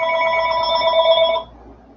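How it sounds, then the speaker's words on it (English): A telephone rings once indoors, a loud, close, harmonic electronic trill lasting about a second and a half, then it cuts off, leaving quiet room tone. "I got another phone going."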